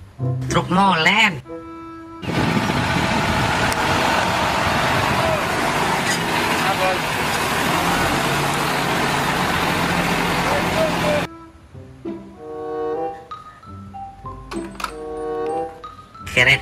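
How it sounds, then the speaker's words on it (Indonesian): A toy cement mixer truck runs with a loud, continuous engine-like rumble for about nine seconds, then stops, with someone talking before and after. "Truk molen."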